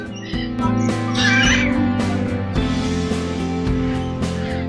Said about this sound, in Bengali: তার পাশেই রয়েছে স্কারলেট ম্যাকাও পাখির সাইজ ছোট হোক বা বড় আওয়াজ কিন্তু সাংঘাতিক